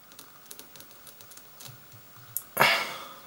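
Scissors snip fly-tying material for a pike popper, with light soft clicks and handling noises leading to one sharp, close crisp cut near the end.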